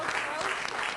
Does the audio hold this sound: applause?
yes